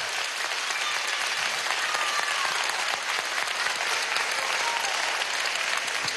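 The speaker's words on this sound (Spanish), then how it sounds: "Vamos a darle un aplauso" Sustained crowd applause at a rally with Colombians in Venezuela, a steady, even wash of many hands clapping at moderate distance without a break for the whole stretch.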